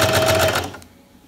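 A sewing machine runs a short, fast stretch of stitching on a newborn baby sleeper, close and steady, then stops abruptly.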